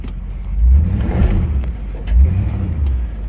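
A vehicle's engine rumbles low and close as the driver presses the gas, the drone swelling twice into louder surges and easing back between them.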